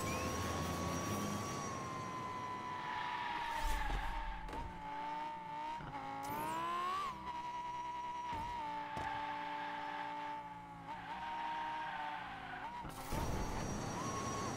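Toy race car in Hot Wheels Unleashed on a custom tube track, a steady high engine whine with abrupt skids and crash impacts breaking the tone around the middle of the lap.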